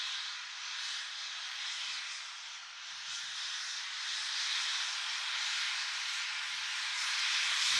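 An airliner braking hard and turning off the runway at Manchester Airport gives a broad, steady roaring hiss of engines and airflow from a distance, swelling slightly toward the end.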